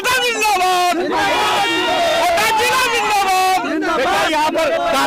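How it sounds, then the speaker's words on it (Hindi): A crowd of election supporters cheers and chants in loud, overlapping shouted voices, with rhythmic chant phrases surging and dropping close by. "यहाँ पर काफी भीड़ लग चुकी है।"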